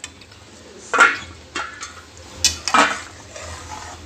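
Paneer tikka masala stirred in a pan with a spoon, a few scraping clinks of utensil against metal spaced over a few seconds, close and fairly loud over a quiet background.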